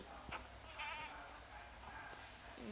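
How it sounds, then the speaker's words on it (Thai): A goat bleats a few times in short, wavering calls in Minecraft, over a faint background hum and noise. "นี่ไงแพะสวัสดี"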